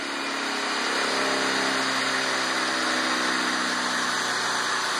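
A Siemens 1PV5133 electric motor fitted with a clutch adapter runs steadily on a test bench, giving a loud, constant hum with a high whine and no change in pitch for the whole stretch, with no voices over it.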